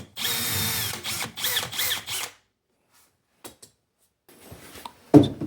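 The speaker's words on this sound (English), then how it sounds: "before we attach them all together, I always like to pre-drill them" A power drill pre-drills holes in closet panels for an IKEA Pax wardrobe unit, running in a loud two-second burst of sustained whine, then quiet with a few faint clicks and a sharp knock at the end.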